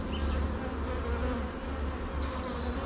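Honeybees buzz inside a hive that has turned to laying workers and been shaken, a dense continuous drone close to the microphone.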